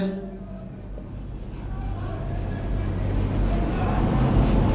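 A pen scratches steadily on paper while a formula for the area of a rectangle is written, a continuous rough, dry rasp that grows slightly louder, with traffic rumble in the background.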